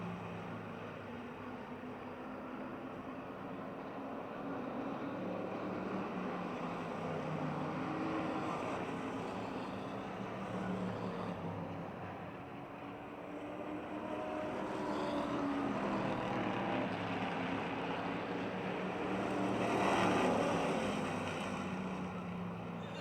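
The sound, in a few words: race cars racing at Motordrome Speedway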